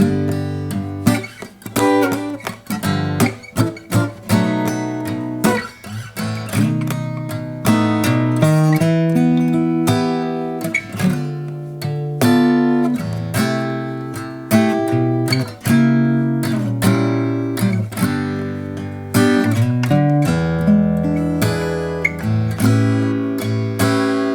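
Solo guitar plays the first A section of a song, a busy, chord-rich melodic passage with quick picked notes and changing harmonies, steady and close.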